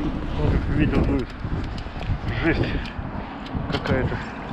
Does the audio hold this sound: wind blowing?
yes